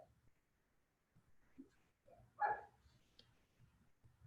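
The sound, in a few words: neighbor's dogs outside the window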